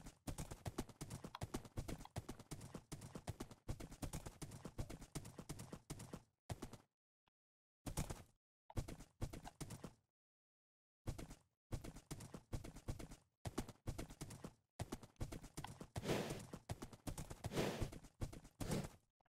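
A speedy horse gallops in a video game, its hoof clip-clop running in dense rhythmic bursts with a few brief silent gaps between runs, fairly close and steady throughout.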